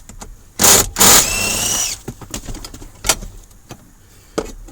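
A cordless drill or impact driver whirs in two loud bursts, the second running about a second, during work inside a Toyota Camry, followed by scattered clicks and taps.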